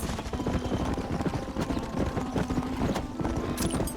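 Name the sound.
horse hooves clip-clop in video game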